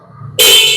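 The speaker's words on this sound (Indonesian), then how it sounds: "ini klakson." A short, loud electric horn beep from a 2022 Cleveland Ace 250 Twin Scrambler motorcycle cuts in sharply after a quiet moment and holds steady to the end.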